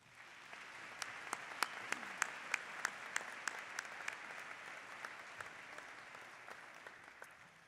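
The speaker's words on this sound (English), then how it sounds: "Please join me now in acknowledging them with your applause." Sustained audience applause filling a university commencement hall, dense steady clapping with sharper individual claps standing out near the front, continuing for the whole stretch with no talk over it.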